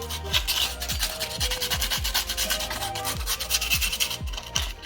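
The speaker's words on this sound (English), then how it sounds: "Some people use like scuff pads, something just to remove any excess rust that's on the hub." A scuff pad scrubs rust off the rear brake hub of a BMW F30 335i in quick, rhythmic, close rasping strokes, about a dozen of them, each heard alone with no voice.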